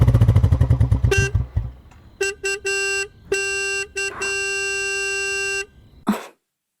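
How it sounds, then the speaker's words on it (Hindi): A vehicle horn blares in a series of short and long blasts after an engine revs, fairly loud, ending abruptly. "देखो कोई बाहर हॉर्न बजा रहा है"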